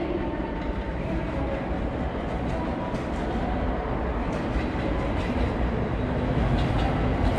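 Train pulling into platform 9 of a Japanese station, a steady rumble of wheels on rails with faint clattering, moderately loud and continuous throughout.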